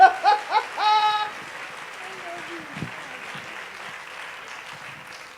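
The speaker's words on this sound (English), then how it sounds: "Applaud, Michelle." An audience applauds Michelle Lucero as she takes the stage at a speaking event, a soft steady patter of clapping that follows a few brief voices and laughs at the start and continues faintly in the background.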